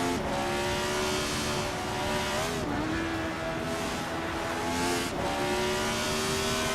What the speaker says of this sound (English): Gina Jones is driving a Parnelli VPJ4